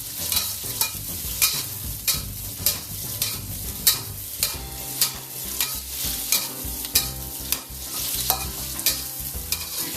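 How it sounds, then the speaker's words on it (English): Food being stir-fried in a very hot wok, with repeated scraping strokes of a metal spatula over a steady close sizzle, the tossing rhythm regular and busy throughout. "This is your cham. Your stir frying."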